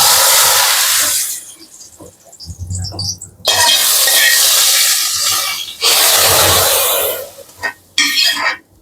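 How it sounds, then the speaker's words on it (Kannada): Hot tempering of mustard seeds and curry leaves being mixed into sambar gives loud bursts of broad hissing sizzle, separated by quieter gaps with low clatter and brief vocal sounds, close and intense. "ನೋಡಿ ಈಗ ಒಗ್ಗರಣೆಯನ್ನು ಸಾಂಬಾರ್ಗೆ ಮಿಕ್ಸ್ ಮಾಡೋಣ"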